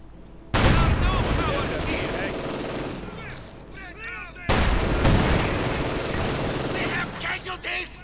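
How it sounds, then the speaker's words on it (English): Machine gun and rifle fire in the Company of Heroes 2 strategy game, two dense bursts of rapid shots with booming impacts, loud and sustained, the second burst starting halfway through. "Troops firing away."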